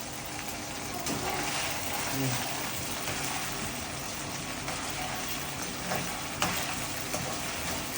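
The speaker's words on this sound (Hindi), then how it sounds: "तो यहाँ पर मुबीन फ्राई कर रहे थे आयत के लिए पोटैटो चिप्स जो उसने कट करके रखे थे फ्लावर शेप में" Flower-shaped potato chips frying in a pan, giving a steady, dense sizzling hiss that fills the whole stretch at close range, with a few faint clinks over it.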